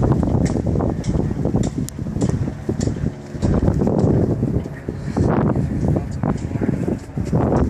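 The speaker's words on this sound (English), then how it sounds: "Yeah, big time wind." Strong, gusty wind buffets the microphone on an SMU football field during kicking practice, a steady broadband roar that swells and dips for the whole stretch, with people talking underneath.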